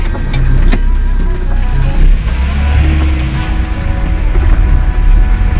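A car runs at close range with a loud, steady engine and road rumble, a few knocks and clicks from the cabin, and no talking.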